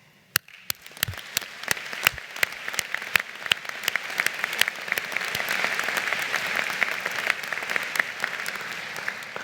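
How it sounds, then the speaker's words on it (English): Applause from graduates' audience at the 2015 Parkland College commencement ceremony, starting with a few sharp scattered claps that quickly swell into a dense, sustained round of clapping from a large crowd. "I want to be the first to applaud your success"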